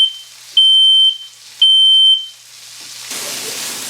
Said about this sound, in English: because I set the smoke detector off